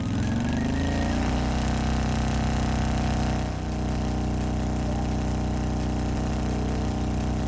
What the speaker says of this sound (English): I need to pull the clutch in quickly and firmly, change gears